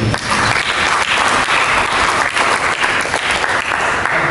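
A church congregation breaks into loud, close applause, with dense clapping from many people sustained evenly throughout.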